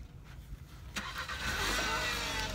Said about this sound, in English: She's moving the car.